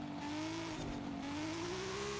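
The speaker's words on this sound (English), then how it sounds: "Or when I am, the tires are squealing," Tires on a street-looking rally car squeal loudly in a sustained, rising whine over constant engine and road roar, close up and continuous, with no talk.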